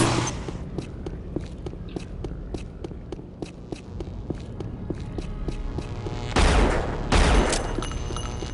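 Weapon fire in the classic shooter Unreal: a steady train of sharp, evenly spaced shots firing in rapid succession, broken near the end by two louder, broader blasts, with no talking.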